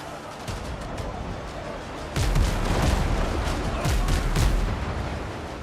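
Ship cannons fire in the pirate game Windrose, heavy booms arriving in a loose volley of several shots over steady ambient sea and wind noise, loud and close.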